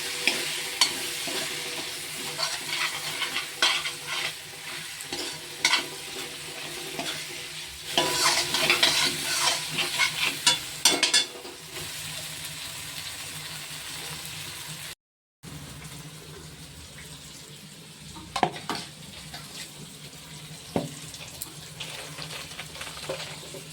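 Spices frying in fish oil in a pan are stirred, a busy sizzle with repeated scraping strokes, briefly cut off midway then resuming more quietly, before Malabar spinach goes in.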